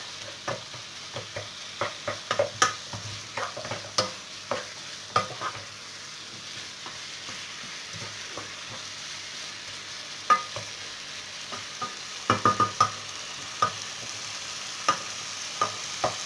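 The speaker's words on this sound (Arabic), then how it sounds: "نحركوه مزيان حيت نقطع قطع صغيره جدا باش كامل يدخل في الثياب" Small chicken pieces being stirred in a frying pan with vegetables and spices, giving a soft background sizzle broken by irregular clicks and scrapes of a utensil against the pan, with no talking.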